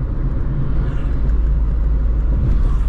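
A turbocharged Chevrolet Corsa 1.6 exhaust with two high-flow mufflers rumbles low and steady up close, a deep continuous drone with slight pulsing and no speech.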